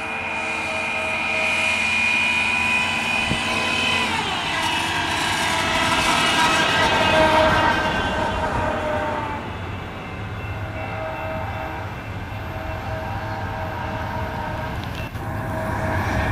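A train rumbles past steadily, its engine drone and rolling wheels swelling then fading, with no talking.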